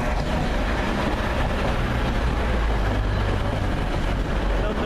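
A Class 185 passenger train, two units coupled, approaches Deansgate station with a continuous loud, broad rumble and rail noise that holds steady throughout.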